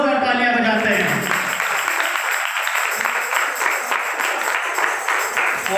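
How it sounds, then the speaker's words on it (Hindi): An audience at a church seminar applauds a performance, the clapping following the tail of speech and continuing steadily and fairly loud to the end. "खूबसूरत प्रस्तुति के लिए हम जोरदार तालियां बजाते हैं"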